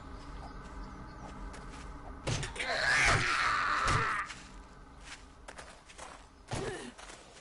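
Zombie footsteps in the survival video game 7 Days to Die: heavy thudding steps and shuffling close by, with a groaning, sighing creature vocalization swelling in the middle over a steady ambient background.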